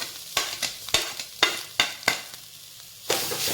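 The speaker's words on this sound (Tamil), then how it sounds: "இந்த தேங்காய் பச்சை வாசம் போகிற அளவுக்கு நல்லா வதக்கிக்கலாம்" Grated coconut fries in a pan with tomatoes, crackling steadily up close while a spatula scrapes and knocks against the metal in quick, irregular strokes.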